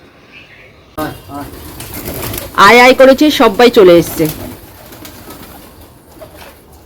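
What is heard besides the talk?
pigeons cooing at home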